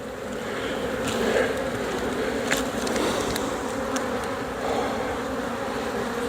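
Honeybees in an open horizontal hive give a steady, dense buzz close to the microphone during a frame inspection, swelling slightly at moments and continuing alone without talk.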